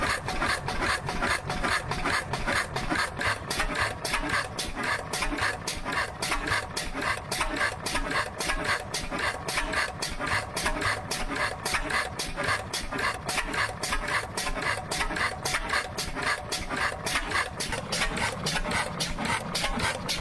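An antique Austral stationary engine running at low speed, with a steady rhythmic exhaust chuffing that repeats evenly throughout, close and continuous with no voices.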